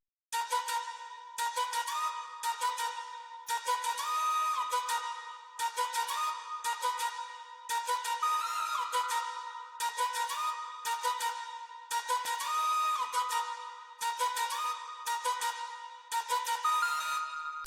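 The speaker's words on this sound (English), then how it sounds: "the finished flute pattern is sounding like this" A finished flute pattern melody in a beat plays alone: bright, repeating flute-like phrases in short rhythmic bursts that loop steadily and clearly throughout.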